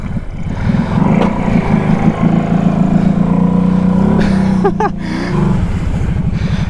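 A Kawasaki Brute ATV engine drones loud and steady as it churns through water, holding a low growl with a brief rev midway before settling again.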